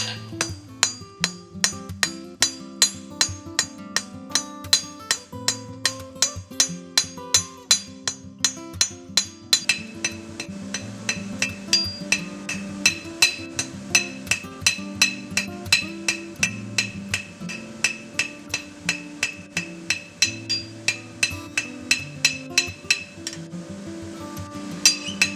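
A farrier's hammer strikes a steel horseshoe to draw and shape a toe clip, giving a long run of sharp, ringing metallic blows at a steady, brisk rhythm, close and loud with no talk.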